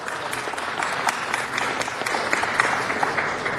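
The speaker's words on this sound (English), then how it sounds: "Can we give Harold and Bells Restaurant a round of applause?" A city council meeting audience claps steadily and fairly loudly for a restaurant in Los Angeles County, dense applause filling the whole moment with no voices.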